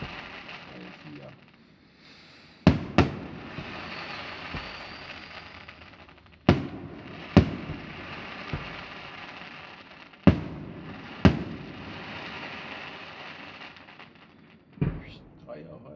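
Fireworks burst at the Kerb town fair in Bad Sobernheim: sharp, fairly distant bangs come singly and in pairs every few seconds, with crackling tails and people chatting throughout.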